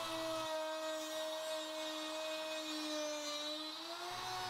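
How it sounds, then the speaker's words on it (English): A plunge router with a straight bit cuts a circle from wood in several passes for a fire pit cover, giving a steady, high-pitched motor whine that holds close and loud throughout with only slight shifts in pitch. "I'm cutting out the circle with a plunge router and a straight bit, making several passes, lowering the bit a little bit each time"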